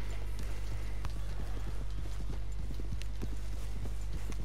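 Horse hooves clip-clop at a steady trotting rhythm in Red Dead Redemption 2, close and continuous over a constant low rumble of game ambience.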